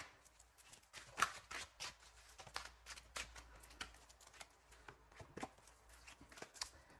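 Tarot cards being shuffled for a second draw, a run of soft riffling flicks and slaps at an uneven pace, close and quiet with no talking.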